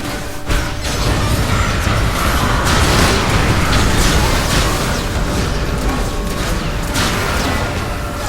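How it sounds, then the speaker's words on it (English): Jinx's rockets fired in rapid succession in League of Legends, a loud, continuous stream of overlapping thumps and crashing impacts with a mechanical rattle throughout. "See how many rockets I'm pumping out right now?"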